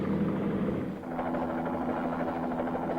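A rigid rotor single-rotor helicopter in flight, a steady droning engine hum with a faint rotor throb that dips briefly and returns, heard alone without talk.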